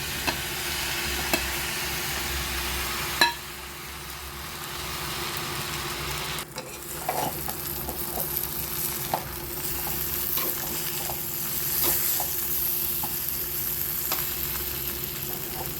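Chicken fries in a pan for chicken perattu with a steady sizzle, punctuated by occasional scraping stirs and spoon clinks, close up and without talk.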